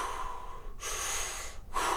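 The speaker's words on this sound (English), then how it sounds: "10 deep belly breaths" Deep belly breaths taken during a chiropractic breathing exercise, close and fairly soft, with a long airy breath followed by a short pause and another inhale.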